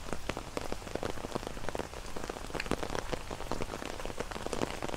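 Rain pattering steadily on surfaces in a large park near the shore in Richmond, a dense, even hiss of drops close by with no voices.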